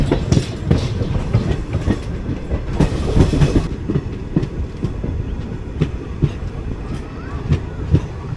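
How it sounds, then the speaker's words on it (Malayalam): The Madurai-Guruvayur Express, a diesel-hauled train, clatters over points with loud rhythmic clicking and rumbling of wheels on rail, heard from on board, close and continuous throughout. "നമ്മൾ പോയിൻറ്റ്സ് കയറി ലെഫ്റ്റ് സൈഡിലാണ് പ്ലാറ്റ്ഫോമിൽ."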